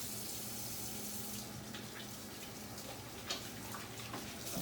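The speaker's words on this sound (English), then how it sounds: "we're going to come over here and wash our hands." Hands are washed under a running kitchen tap before baking chocolate chip cookies, the water streaming steadily with a soft, even splash that stays close and uninterrupted.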